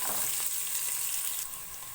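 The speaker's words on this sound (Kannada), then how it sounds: "ಒಗ್ಗರಣೆ ಚೆನ್ನಾಗಿ ಫ್ರೈ ಆಗಿದೆ" Tempering spices sizzling in hot oil for a greens (soppu) sambar, a steady close frying hiss that fades slightly toward the end, with no talking.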